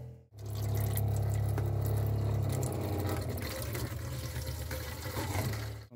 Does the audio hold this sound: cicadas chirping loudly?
no